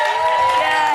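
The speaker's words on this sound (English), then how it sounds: "The minute we played the numbers, the crowd just went like this." Studio audience at a reality-show eviction night, a loud dense crowd roar sustained throughout, reacting to the nominations being announced.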